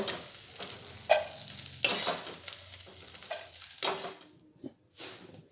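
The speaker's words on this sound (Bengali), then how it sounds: "নাড়াচাড়া করে লাল লাল করে চিংড়ি মাছগুলো ভেজে নেব।" Prawns frying in mustard oil in a kadai, a steady sizzle broken by several sharp scraping stirs of a spatula against the pan, fading quieter toward the end, with no talking.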